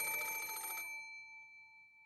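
A telephone on a bedside table rings loudly in one bright, trilling burst of bell tones, then the ring decays into a long, fading tail with no voices.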